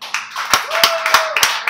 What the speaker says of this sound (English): let's give a big round of applause for Eddie